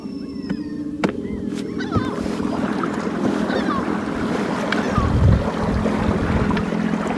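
A keel-less boat driven at full throttle across open water, a constant roaring rush of engine and hull noise with low rumble and gusty wind buffeting on the microphone, steady and close.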